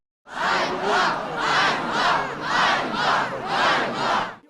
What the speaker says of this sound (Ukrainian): співали український славень і вигукували патріотичні гасла